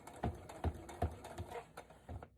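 Sewing machine stitching back over a seam in stretch fabric for a twisted headband, a series of thumping, rattly bursts with short pauses between them, close and fairly quiet.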